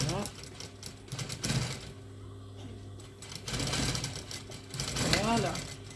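A sewing machine stitching a zipper into a pleated skirt, its fast mechanical chatter coming in close bursts separated by pauses, under a woman's speech in French.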